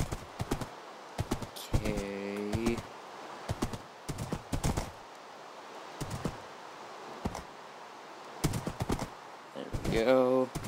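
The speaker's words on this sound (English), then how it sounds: "Quit running from me, stupid horse." Horse hooves clip-clop in the Minecraft video game, a series of short, brisk steps broken into bursts with brief neighing, while a person talks over them.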